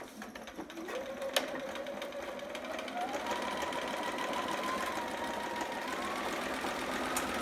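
A sewing machine stitching fabric runs steadily for several seconds, a close, even mechanical whir with a rising motor tone and light rhythmic needle clatter, heard alone without talk.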